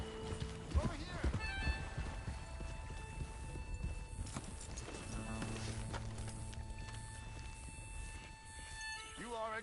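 Horse hooves clatter in a steady galloping rhythm in Red Dead Redemption 2, moderately loud beneath game music, with voices talking over it.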